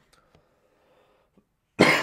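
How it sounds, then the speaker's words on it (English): After near silence with a few faint ticks, a single loud, harsh cough bursts out close by at the very end. "I'm coughing a lot."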